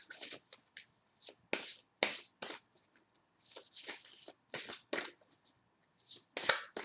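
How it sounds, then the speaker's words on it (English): Cards riffle and slap in a steady series of crisp, brisk bursts, close up, with short pauses between each shuffle and no talking. "I am a fan of shuffling and not splitting decks"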